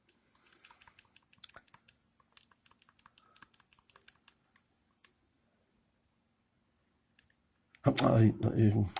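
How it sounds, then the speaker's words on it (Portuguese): Keys are pressed on a graphing calculator, including the enter key. Faint, sparse plastic clicks and taps come in quick irregular bursts over a quiet background, and a person starts talking at the end. "Carreguei outra vez no enter."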